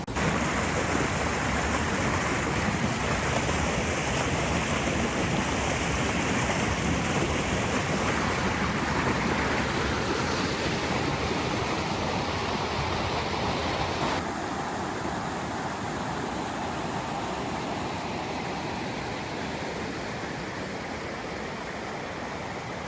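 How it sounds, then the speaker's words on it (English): River rapids rush where the Toxaway River narrows and is forced downward, a dense, steady roar of churning water that fills the space continuously and loudly with no other sounds. "right behind me is one of the rapids they call Feeding Trough, and it's easy to see why as the entire river narrows and gets pushed down through here"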